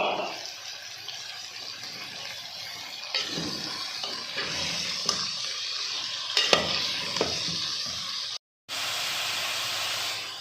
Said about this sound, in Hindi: गोभी को मैंने 2-3 मिनट भूनना है